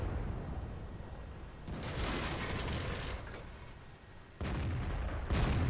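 Tank gun shots from World of Tanks, ARL tank in battle: a few heavy, booming blasts with broadband rumble, spaced a couple of seconds apart, loud and close with no talking.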